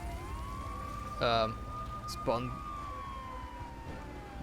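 Police car siren in the video game GTA III, a steady wailing tone that glides slowly up and down behind two short bursts of speech.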